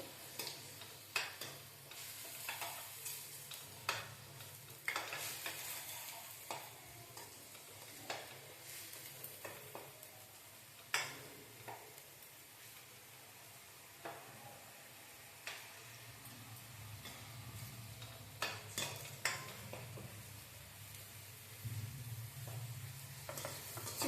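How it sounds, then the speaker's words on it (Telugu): Masala spices fry in a pan for a fish curry while a spoon scrapes and stirs over and over, quiet, irregular scratchy strokes above a faint, steady sizzle. "మసాలాలు మారకుండా మనం బాగా వేయించుకుందామండి"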